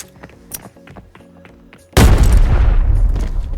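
A sudden loud, booming grenade blast in the video game Arena Breakout erupts after quieter rhythmic game sounds, its rumble lingering and slowly fading.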